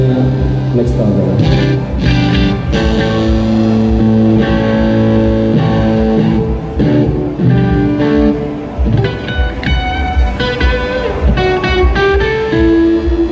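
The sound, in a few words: electric guitar through overdrive pedal, miked Blackstar amplifier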